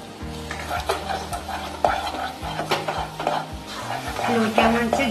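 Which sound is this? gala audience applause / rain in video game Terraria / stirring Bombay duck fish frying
stirring Bombay duck fish frying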